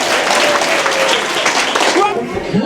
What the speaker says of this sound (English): give her a massive round of applause for the outstanding voice of Arria